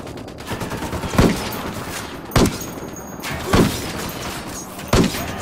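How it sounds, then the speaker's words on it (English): Gunfire in the video game Ghost Recon Wildlands: four loud, sharp shots spaced about a second apart, each standing out above a steady background rumble of game ambience. "Taking a shot."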